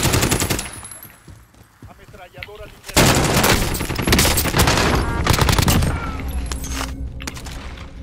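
A light machine gun fires in Call of Duty Modern Warfare, with loud, dense bursts of rapid automatic shots and heavy echoing booms, after a short quieter stretch at the start.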